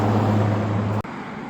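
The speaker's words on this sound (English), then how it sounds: "cars constantly passing by" Traffic on a busy road, a loud steady roar of a passing vehicle with a low engine hum that cuts off abruptly, leaving a quieter background rush of road noise.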